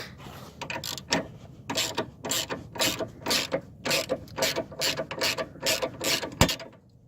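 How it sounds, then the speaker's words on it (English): A ratchet removes a bolt on a 2008-2011 Ford Focus during intermediate shaft work, clicking in a quick steady series of close, rapid ratcheting strokes, with a single metallic knock near the end. "Now I'm gonna go ahead and take this bolt off."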